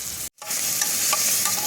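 Tomatoes sizzle and crackle steadily in a hot pan with coriander and curry leaves, with a brief cut in the sound near the start, close and fairly loud.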